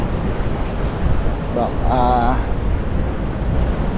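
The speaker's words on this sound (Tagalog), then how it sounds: "medyo pasensya na po at mahangin" Strong wind at sea buffets the microphone in a steady low roar throughout, with someone briefly speaking in Filipino partway through.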